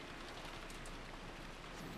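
Dense, steady rain falls on surfaces in the visual novel Umineko When They Cry, a soft, continuous hiss at low volume with no voices.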